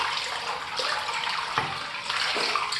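Water runs steadily into a bathroom sink while shaving lather is rinsed away, a loud continuous splash with a few brief surges and no speech.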